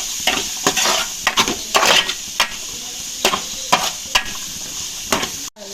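Disco masala frying in a pan, a loud continuous sizzle punctuated by regular clacks and scrapes of a spoon stirring against the metal, ending abruptly.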